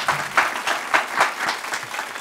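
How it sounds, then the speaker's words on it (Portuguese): A studio team applauds, steady dense clapping from a small group, close and continuous with no voices. "Cadê os aplausos para ele?"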